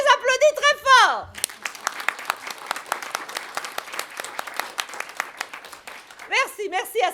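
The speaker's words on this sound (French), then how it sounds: "on les applaudit très fort" Audience applause breaks out between bursts of speech, a dense patter of many hands clapping at moderate distance before a voice returns at the end.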